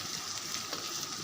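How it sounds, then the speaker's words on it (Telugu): Onion pieces with rock salt sizzle and fry in a pan for a Telugu mulakkaya palu curry, a steady, close crackling hiss with no voices. "ఉప్పు వేసాక ఉల్లిపాయ ముక్కలు పర్ఫెక్ట్గా మగ్గుతాయి."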